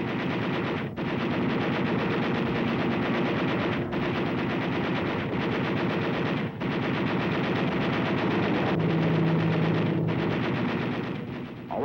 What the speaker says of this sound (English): Japan is so short of oil that when her fighters are strafed, there is no gasoline to explode.